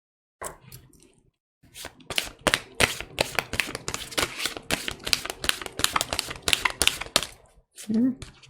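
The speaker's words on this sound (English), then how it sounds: "these cards are so hard to shuffle" A deck of stiff playing cards is shuffled in a series of sharp, rapid riffling bursts and snaps up close, interrupted by brief pauses, with a voice heard faintly near the end.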